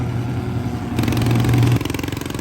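A pulling tractor engine runs loud and close with a steady rumble that shifts pitch partway through, then settles into a lumpy, pulsing idle.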